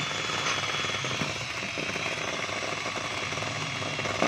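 A DeWalt DWP849X car polisher runs continuously at close range, giving a steady, loud motor whir with a fine vibrating rattle.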